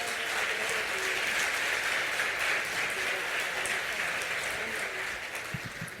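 Church congregation applauding steadily during a worship service, a dense sustained clapping that carries on throughout and fades slightly near the end.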